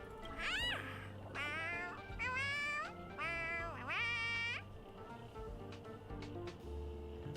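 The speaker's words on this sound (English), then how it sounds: "Sounds like a really dumb cat." A cartoonish cat in the Honkai: Star Rail video game meows four times in quick, rising and falling calls, loud and clear over soft background game music, with no talking.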